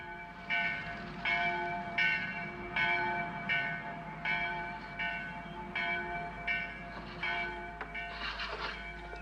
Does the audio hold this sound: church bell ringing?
yes